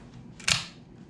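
A Wish.com OTF knife is test-fired during reassembly, giving a single sharp, close metallic snap.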